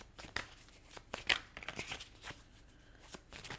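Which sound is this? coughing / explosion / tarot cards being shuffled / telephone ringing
tarot cards being shuffled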